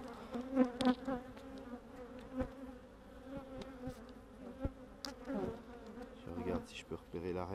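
Honeybees hum and buzz around an open hive as frames are handled, a close, steady drone with individual bees zipping past.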